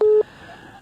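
A telephone busy signal sounds while calling in to a radio program: one short, loud beep of steady tone, followed by faint, hissy line noise.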